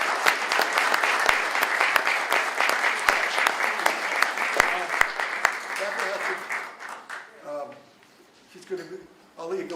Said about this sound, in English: Let's give Becca a round of applause.